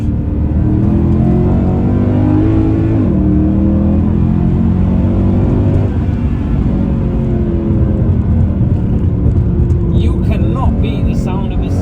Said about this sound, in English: The sound of a C63.